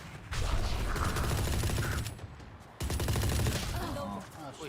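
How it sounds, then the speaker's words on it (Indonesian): Rapid gunfire in a shooter video game, dense automatic bursts with a brief break partway through, loud and close, with voices talking faintly underneath. "Ari, peluru nyasar"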